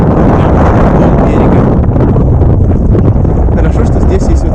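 Strong wind buffets the microphone on a frosty lakeshore during pike fishing, a loud, constant roaring rumble that fills the whole stretch.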